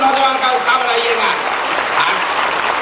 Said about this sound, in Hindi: एक बार जोरदार तालियां बजाकर के नौजवान का उत्साह बढ़ाइएगा